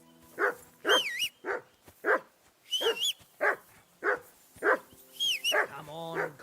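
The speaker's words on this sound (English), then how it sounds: "Henry, call that dog to heel." A dog in Kingdom Come Deliverance II barks repeatedly in a steady rhythm, close and loud, breaking into high whimpers and yips between barks, with spoken voices alongside.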